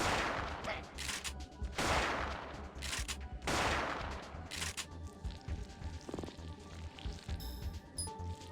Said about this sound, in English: you can just shoot at stuff you can't even see on the screen